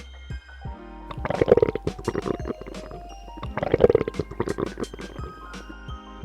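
Hungry stomach rumbling in two long gurgling bursts with squeaky, bubbling rises, close and prominent, separated by quiet pauses and trailing off into smaller gurgles.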